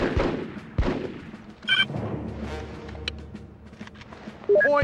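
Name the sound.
gunfire from squad fire command in a video game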